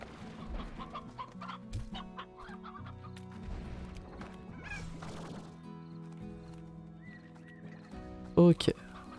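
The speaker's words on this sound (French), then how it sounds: "le coq, ça je voulais garder." A rooster in the Slime Rancher video game clucks amid layered game music and sound effects, with a short, loud squawk near the end.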